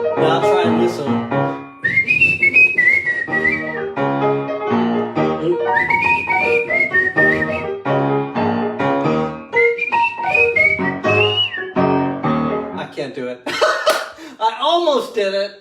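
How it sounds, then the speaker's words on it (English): A person whistles a wandering, warbling melody alone at close range, with short breaks between phrases and a few breathy, laugh-like sounds near the end. "Now I'll try and whistle."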